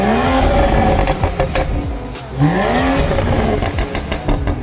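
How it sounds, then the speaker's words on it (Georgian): A BMW in sport mode with popcorn exhaust tuning revs loudly nearby in two rising bursts, with crackling pops and bangs from the exhaust between and after the revs. "ავტომობილზე უფრო სპორტული და აგრესიული ხმისათვის, მხოლოდ სპორტ რეჟიმში ჩავწერეთ popcorn."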